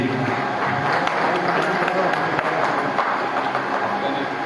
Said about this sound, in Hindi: सभी जोरदार तालियां दी